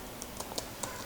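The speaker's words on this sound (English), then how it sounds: "So here I'll be typing my package name" Keys clatter on a computer keyboard in a quick, uneven run of about five soft taps as a package name is entered, close and alone with no voice.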